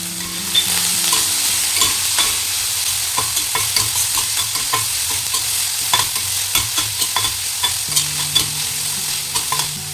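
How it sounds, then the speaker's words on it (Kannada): Dried chili, onion and curry leaves fry in a pan with cumin, giving a steady close sizzle broken by frequent sharp scraping and tapping from stirring. "ಒಂದು ಒಣಮೆಣಸನ್ನು ಕಟ್ ಮಾಡಿ ಹಾಕ್ಕೊಂಡೆ ಹಾಗೆ ಈರುಳ್ಳಿ ಸ್ವಲ್ಪ ಕರಿಬೇವು"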